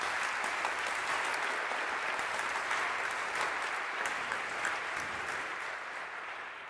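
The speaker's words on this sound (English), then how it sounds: "I think we need to give every one of them a hand of applause." An audience at an evening lecture series applauds: dense, steady clapping from many hands, sustained throughout and tapering slightly at the end.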